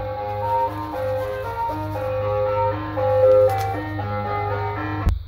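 An ice cream van parked right outside a house plays its chiming melody, loud and steady over a low engine hum, ending with a sharp click.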